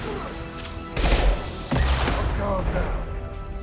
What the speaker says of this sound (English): Firing concussive shot! Oh, good. They've got an asshole with a rocket launcher.